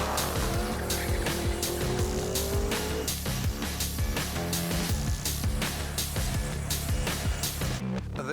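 A race car charges up the Simola hillclimb course in Knysna, its engine roaring loud and close as it climbs through the revs while the tires squeal, with a steady rhythmic pulsing running throughout.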